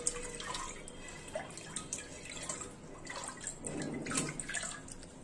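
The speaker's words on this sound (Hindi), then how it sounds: "पानी में हम 1 चम्मच चूना डाल देंगे इस तरीके से और इसे हम पानी में अच्छे से घोल देते हैं" A spoonful of slaked lime is stirred into water, giving soft, faint sloshing and dripping sounds in short bursts, with a slightly stronger splash near the end and no talking.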